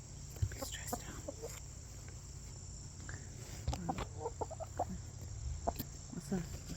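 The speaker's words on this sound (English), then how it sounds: "Stressed out chickens." Chickens cluck in stressed, broken bursts, scattered over a steady low hum with faint insect-like chirping in the background.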